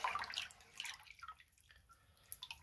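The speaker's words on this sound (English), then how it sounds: "Give it a stir." Hydroponic nutrient solution being stirred in water for a GT205 NFT system, with faint, quiet swishing and dripping that comes in a few soft bursts near the start, then fades to a low trickle.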